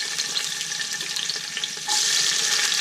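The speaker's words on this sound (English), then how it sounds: "onions, and we're going to be adding our garlic. Okay, so we're going to saute those." Onions and garlic sauteing in vegetable oil for a pork pochero, a steady close broadband sizzle that swells louder and brighter about two-thirds of the way through as more goes into the pan.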